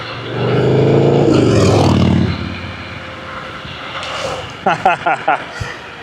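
A Gotrax GX2 offroad dual-motor electric scooter rides fast downhill at about 65 km/h, with a loud, close rushing roar that drops after two seconds, followed by a few sharp bumps and a voice.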